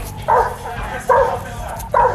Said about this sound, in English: Yeah, go get the dog.